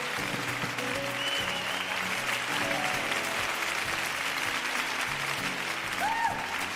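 Steady, dense applause from a conference audience at Nigeria Fintech Week 2025 fills the room, with a low musical tone playing underneath throughout.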